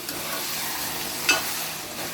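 Chicken simmering in avakaya mango pickle oil gives a steady, close sizzle, with a short brighter crackle or stir near the middle and no talking.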